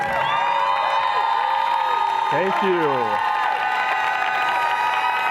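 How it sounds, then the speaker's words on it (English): Keynote audience at a Salesforce Marketing Cloud event cheering and applauding as an executive takes the stage, a loud continuous roar of crowd noise beneath amplified voices and music, with someone speaking over it. "We got the whole cheering crowd here."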